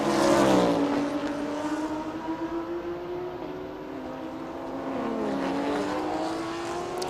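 An Audi R8 and a Lexus race car on a racetrack during a Thailand Super Series race, engines droning at high revs as they sweep past, the pitch sliding down and rising again in a long continuous roar.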